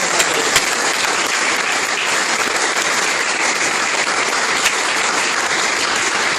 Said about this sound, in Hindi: एक जोरदार तालियां इस ग्रेट सक्सेस को